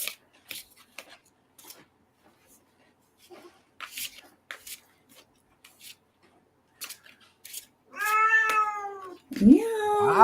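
A cat lets out a loud, drawn-out meow near the end, then a second sharp cry, after a long quiet stretch of scattered small clicks and rustles.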